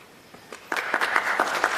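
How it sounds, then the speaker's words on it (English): Conference attendees at an international meeting break into applause that starts with a few scattered claps and quickly swells into steady, moderate clapping. "Yes, round of applause."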